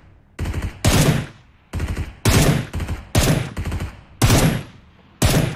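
Bursts of automatic gunfire from a gun in the mobile battle royale game BGMI, loud and close, fired in five separate rapid volleys with short pauses between them.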